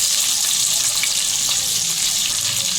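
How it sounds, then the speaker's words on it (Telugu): Vegetables and sliced green chillies fry in a pan for vegetable pulao, giving a loud, close, continuous hiss and sizzle that stays even for the whole stretch, with no voices. "సన్నగా కట్ చేసుకున్న పచ్చిమిర్చి కూడా ఒకసారి అయితే కలిపేసుకొని ఫ్రై చేస్తున్నాం"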